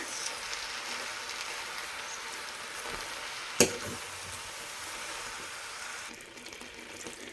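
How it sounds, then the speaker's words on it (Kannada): Soya chunk and potato curry with masala being stirred in a pan: a steady soft sizzle and scraping mix runs throughout, with one sharp knock of the spoon midway, no talking. "ಬಟ್ ಈ ಸೋಯಾ ಚಂಕ್ ಸೈಜ್ ದೊಡ್ಡದಾಗಿರೋದ್ರಿಂದ ನೀಟಾಗಿ ಮಸಾಲ ಎಲ್ಲನೂ ಇದಕ್ಕೆ ಹತ್ತೋ ಥರ ಒಂದು ಮಿಕ್ಸ್ ಮಾಡ್ಕೊಂಬಿಡೋಣ."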